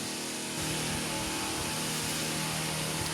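A steady, droning lawn mower engine runs continuously at a fairly constant pitch, with a broad mechanical whine throughout and no voices.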